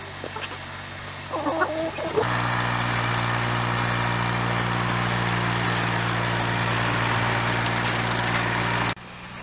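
A steady tractor engine drone with low harmonic hum, running a bush hog mower over a field, runs loud and continuous for most of the clip, after a few seconds of chickens clucking at the start.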